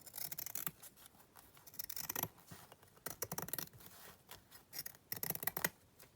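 Scissors trim the edge of junk journal paper in several quick bursts of snipping and rustling cuts, close up and crisp, with short pauses between runs.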